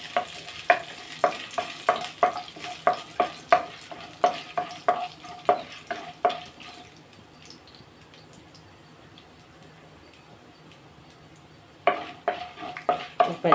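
Chana dal frying in a pan: a rapid run of rhythmic utensil taps and stirs over a faint sizzle, a quieter pause of soft frying, then the brisk stirring resumes.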